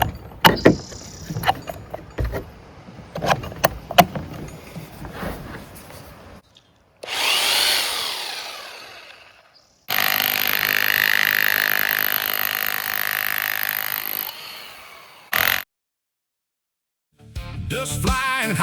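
A rotary hammer drill fitted with a chisel bit breaks up a stone slab in loud, sustained bursts of harsh hammering. The bursts are close and last several seconds each, broken by short silent pauses.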